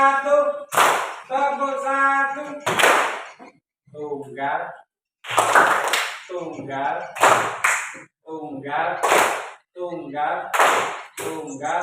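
Children clap their hands in a clapping game, sharp single claps falling in a loose rhythm between stretches of a teacher's spoken instructions.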